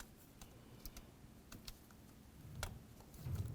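A wiring connector being pushed onto the variable valve timing solenoid of a 2007–12 Nissan Sentra, several faint, close plastic clicks and light taps scattered over a quiet background, followed by some low handling rustle.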